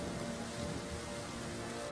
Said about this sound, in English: The rain certainly seems to have gotten stronger,